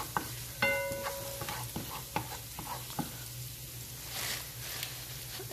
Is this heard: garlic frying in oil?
yes